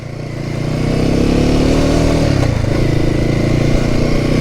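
A motorcycle on a manufacturer test ride at a festival pulls away, its engine note building over the first second into a loud, steady, close drone that holds with slight pitch shifts, no talking.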